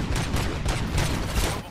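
Rapid bursts of gunfire crackle through a Robocop video game scene, dense overlapping shots forming a continuous fusillade at steady loudness, with no talk.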